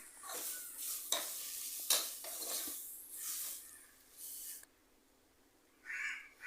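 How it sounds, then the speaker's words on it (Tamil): Two chopped tomatoes are sautéed in a little oil with spices and beef for a curry, giving a busy hiss of frying with repeated scraping strokes of a spoon in the pan, then a short near-silent gap before a brief sizzle returns. "கட் பண்ணி வச்சுக்க 2 தக்காளியும் அது கூட சேர்த்துட்டு நல்லா வதக்குங்க."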